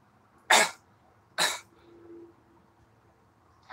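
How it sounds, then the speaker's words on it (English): Two sharp, loud coughs from a person about a second apart, close by, followed by a faint low murmur and quiet room background. "I just want to cough"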